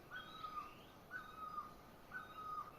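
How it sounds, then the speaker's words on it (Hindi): A bird in a mountain village repeats a clear call three times at roughly one-second intervals, each note standing out over a faint, steady background hush with no talking. "यहाँ पे आप एक चिड़िया की आवाज़ सुनिए दोस्तों एक बार।"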